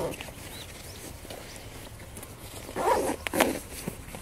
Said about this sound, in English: let's zip in the little foot cover. So basically just a zipper.